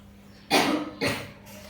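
Two sharp coughs from a single person indoors, about half a second apart, each a loud broadband burst that dies away quickly, against a quiet room with a faint low hum.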